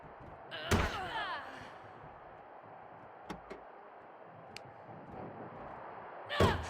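A car door slams shut on a wrestler's hand in a parking-lot brawl in WWE 2K23, a loud hard bang near the start followed by a few smaller knocks and another heavy impact at the end, over steady crowd or arena ambience.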